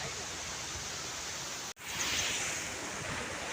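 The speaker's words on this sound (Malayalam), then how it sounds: "പെരിയ കനാലിലെ വെള്ളച്ചാട്ടമാണിത്" A steady, broad roar of falling water from the Periya Canal waterfall at Chinnakanal, Kerala, fills the scene, loud and continuous, with a brief dropout partway through.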